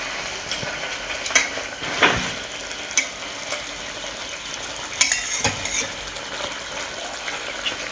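Bhetki fish pieces go into a bubbling tomato curry, bringing a steady soft sizzle and simmer punctuated by several sharp clinks and knocks of a utensil against the pan, close by with no speech.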